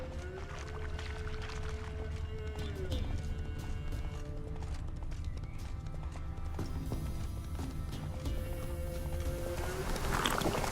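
Roach, a horse in The Witcher 3, gallops in a steady rhythm of clip-clop hoofbeats under game music and ambience, with voices talking over the ride.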